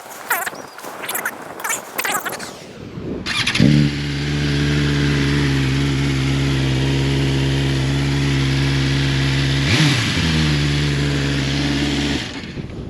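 A BMW M1000R inline four-cylinder motorcycle engine revs up sharply, then holds a loud, steady high-pitched exhaust howl, dipping briefly as it shifts before carrying on.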